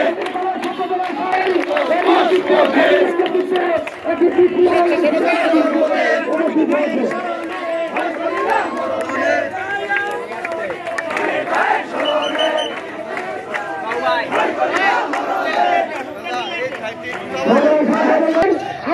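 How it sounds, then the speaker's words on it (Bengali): A large procession at a Jamalpur rally chants slogans together, loud massed voices rising and falling in rhythmic calls over continuous crowd din, close and dense throughout. "তাদের নেতৃত্বে একটি বিশাল মিছিল আমাদের মধ্যে অনুষ্ঠিত হয়েছেন"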